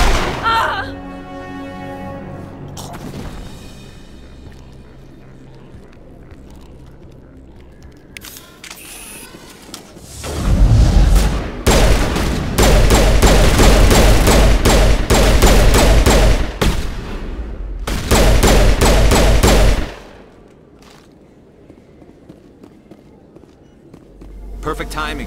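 Rapid gunfire in a Mass Effect Legendary Edition shootout, loud sustained bursts of automatic shots for about ten seconds, preceded and followed by quieter stretches with speech.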